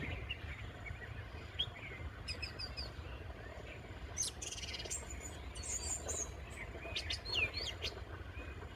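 Birds call in the hills, with scattered high chirps and short trills coming in bursts over a low, constant background hum, fairly faint and unaccompanied by speech.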